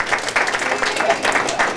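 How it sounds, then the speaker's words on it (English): A crowd at an office Christmas party for an air-conditioning company claps and applauds steadily for a guest called up front, dense and continuous, with voices mixed in. "Let's give a big applause for Marissa"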